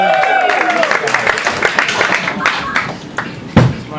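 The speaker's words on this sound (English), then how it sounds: "Clap for Charles, ladies and gentlemen." Crowd in a New York comedy club clapping for a comedian, a run of scattered claps that thin out, with someone talking over them and a sharper burst near the end.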